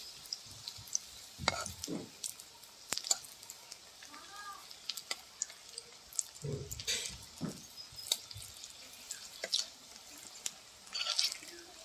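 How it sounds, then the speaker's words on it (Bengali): Green banana and fish koftas fry in oil with a soft, uneven sizzle, punctuated by clinks and scrapes of stirring and turning, close by but fairly quiet. "তো খুব ভালো করে এপাশ ওপাশ করে ভেজে নিতে হবে, একদম লাল লাল করে।"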